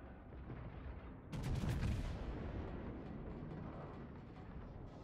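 Naval gun salvo fired from the Republic battleship in a video game: a sudden loud, deep booming burst that rolls into a sustained rumble over a steady noisy background.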